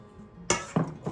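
A utensil clinks against a bowl while coconut salad is mixed with salt: two or three sharp, close knocks within a second over a faint background.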